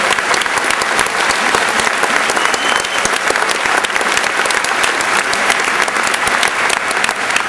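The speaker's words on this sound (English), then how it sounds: "It's such easy applause" A graduation audience applauds in honour of mothers, dense sustained clapping from a large crowd filling the hall, loud and steady throughout with no break.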